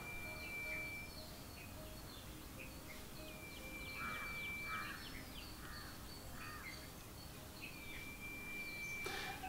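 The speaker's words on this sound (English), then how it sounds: "But you can hear the birds" Crows cawing in scattered bursts over steady background traffic hum on an organic orchard farm, the calls moderately distant and repeating irregularly amid a faint outdoor bed of insect and bird sound.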